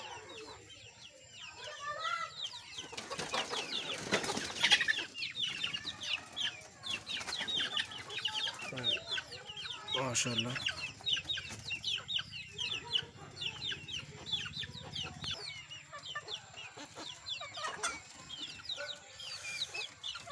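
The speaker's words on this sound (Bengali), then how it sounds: "খাঁচার মুরগিগুলো দেখেন" Caged native chickens on a small farm cluck and chatter steadily throughout, a dense flock chorus with louder bursts of calls; someone speaks briefly over them.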